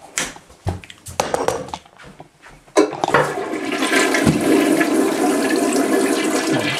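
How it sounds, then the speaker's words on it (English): A toilet flushes loudly and close, a sudden rushing whoosh of water that swells and keeps churning steadily after some brief clattering handling sounds. "Forgot to flush the toilet."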